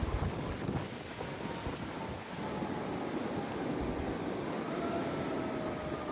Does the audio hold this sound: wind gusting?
yes